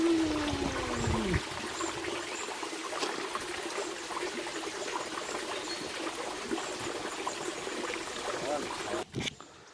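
Water trickles and burbles steadily at the hidden source of the Bhima river on the Bhimashankar trek, a soft, continuous flow close by with a brief watery sweep at the start.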